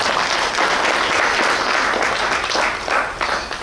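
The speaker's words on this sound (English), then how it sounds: "Give me a big hand clap." A ballroom crowd at a Bomi County association event in the USA breaks into sustained, loud applause, many hands clapping steadily and densely for several seconds with no voices over it.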